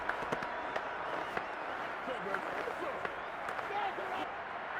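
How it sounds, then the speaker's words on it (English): Stadium crowd noise from a Madden 22 simulation of the Falcons versus the Saints, a steady roar and murmur with scattered claps rising slightly, running continuously at moderate level under faint play-by-play commentary. "Crowd getting in it a bit already."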